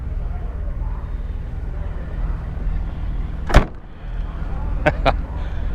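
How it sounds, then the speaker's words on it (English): An old, well-kept car's door shuts with one solid, heavy slam, followed by a couple of lighter clicks or knocks, over a steady low background rumble and muffled room noise. "Doors don't shut like that anymore."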